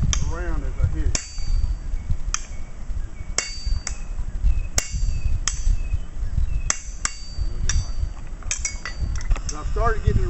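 A blacksmith strikes a workpiece on an anvil, rotating it between blows during a craft demonstration; about a dozen sharp, ringing hammer hits land at irregular intervals over a steady low background hum.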